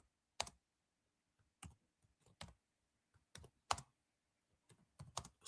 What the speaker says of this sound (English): I'll be typing my answer.